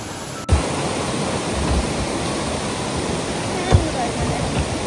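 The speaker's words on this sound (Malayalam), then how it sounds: "നല്ല ഭംഗിയുള്ള വെള്ളച്ചാട്ടല്ലേ" A forest waterfall at Gavi roars as a steady, loud, unbroken rush of falling water, close and constant throughout, with a faint thump or two.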